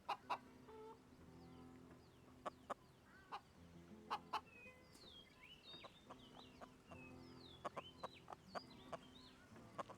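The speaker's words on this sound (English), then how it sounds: "those chickens are quite rowdy, man." Chickens cluck and squawk in a rowdy flock on the Inferno map in CS:GO, with repeated sharp clucks and occasional crowing-like calls over game background noise, no talk.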